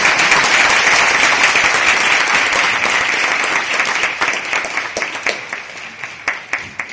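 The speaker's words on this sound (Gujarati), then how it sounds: "હવે તો તાળી વગાડો હવે" Dense applause from an audience at a Swaminarayan temple gathering in Dayapar, loud and sustained at first, then thinning into scattered individual claps toward the end.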